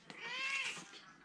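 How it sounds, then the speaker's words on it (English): A kitten gives one close, clear meow that rises and falls, with no other sound around it. "What do you want, kitten?"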